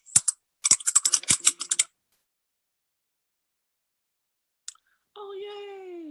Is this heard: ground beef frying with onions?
no